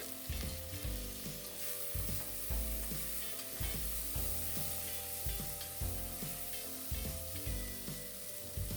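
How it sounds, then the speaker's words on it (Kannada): Tomato frying in a pan for amaranth saaru, giving a continuous, fairly quiet sizzle with regular rhythmic stirring scrapes, and no talking over it. "ಟೊಮೆಟೊ ಸ್ವಲ್ಪ ಸಾಫ್ಟ್ ಆಗೋವರೆಗೆ ಫ್ರೈ ಮಾಡ್ಕೊಳ್ಳಿ."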